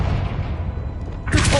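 A Confringo blasting spell explodes in a Harry Potter video game, a low rumbling buildup breaking into a sharp, loud blast near the end, with a player's voice present.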